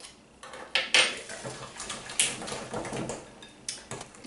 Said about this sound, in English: I'm just going to take this fork and clean it off the spoon